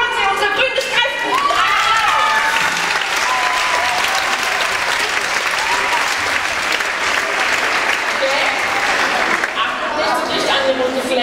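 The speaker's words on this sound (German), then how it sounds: "einen besonders großen Applaus für unsere Gelbe Tupfe" An audience at a children's singing event applauds in a dense, loud, sustained roar of clapping lasting over ten seconds, with scattered cheers and children's shouts rising near the start and end.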